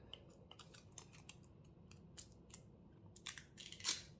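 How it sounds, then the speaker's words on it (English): Masking tape being peeled off a stamped, inked paper card during a card-making project, heard as faint, quiet crackly tearing bursts spread across the clip, growing stronger toward the end, with no talking. "Take off my tape."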